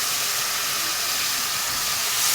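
Ground spice paste hits hot oil with popped mustard seeds for rasam, giving a loud, steady, hissing sizzle that runs on without a break.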